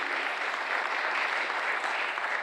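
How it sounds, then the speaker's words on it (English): Steady applause from a crowd after a speaker's talk at an expo, evenly sustained clapping filling the room with no voices over it. "A big round of applause, Merelyn."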